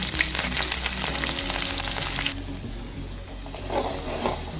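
Crushed onion, garlic, ginger and green chilli dropped into hot coconut oil with fenugreek, a loud dense close sizzle that drops to a softer, steadier frying hiss halfway through, with no talking.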